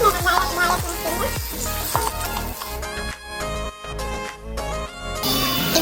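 Onion and garlic sauté in oil in a pan for an Ilocano-style tuna curry, a loud continuous sizzle with scraping stirs and clinks of a utensil against the pan.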